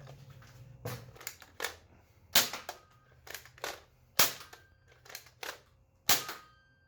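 A toy foam dart blaster is fired repeatedly in a test, sharp close snapping shots in irregular bursts over a quiet background.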